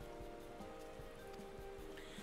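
Soft, steady rain pattering on surfaces in Final Fantasy XIV during the Hatchling Tide event, a faint even hiss with scattered drops and no voices.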